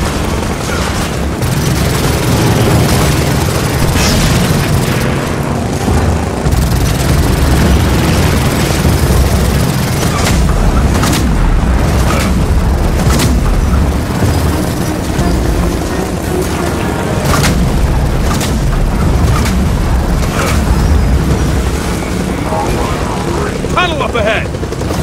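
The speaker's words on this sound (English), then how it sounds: "Bombing the mountain!" Continuous heavy rumbling and booming from bombing explosions on a mountain in Gears of War 4, loud and dense throughout, with engine-like drone and a voice shouting over it.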